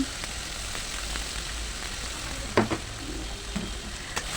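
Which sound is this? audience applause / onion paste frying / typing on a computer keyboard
onion paste frying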